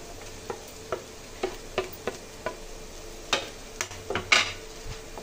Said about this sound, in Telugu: కలుపుకుందామండి డ్రై ఫ్రూట్స్ అంతా కలిసేలాగా